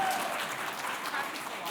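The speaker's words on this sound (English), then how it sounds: "can we just give a round of applause for Madison" Audience clapping at a Twenty in Their 20s awards event in London, a steady mid-level patter of many hands filling the short stretch without a break.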